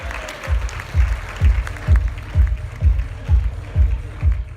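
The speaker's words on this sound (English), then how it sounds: "Huge round of applause for all the media and for the rest of the USA entire team" A gala audience for Gift of Life USA applauds in a sustained crowd wash, cut through by a steady, regular low thump that pulses about twice a second throughout.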